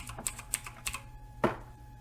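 A few quick, close keystrokes on a computer keyboard, about four separate taps spread over two seconds, with no talk.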